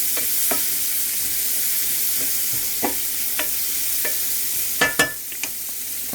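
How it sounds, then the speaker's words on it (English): Onion and garlic sauté in a greasy pan with a steady broadband sizzle, broken by several sharp scrapes and clacks of stirring that cluster and grow louder near the end; no one speaks. "I'm gonna add my onion and garlic to the pan and start moving that around."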